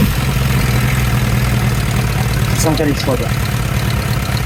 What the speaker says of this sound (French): Si on en a un, ça va démarrer la bécane.